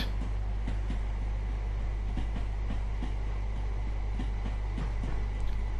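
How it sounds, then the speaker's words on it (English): A Southern Rail train rolls past on the London Victoria to Brighton line, its steady rumble and rhythmic clicks of wheels over rail joints heard close and continuous from inside a waiting cab. "let the Southern Rail service pass as we start bringing our train forward"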